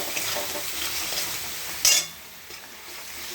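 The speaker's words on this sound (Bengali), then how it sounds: "আগে মশলাটাকে কষে নিই।" Spices sautéed in hot oil with cumin seeds while a utensil stirs through the pan, a close steady sizzle with one sharp scrape of metal on the pan partway through.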